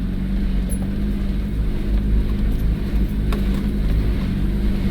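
An off-road vehicle crawls along a byway in low range and second gear, its engine giving a steady, close, low rumble with no speech over it.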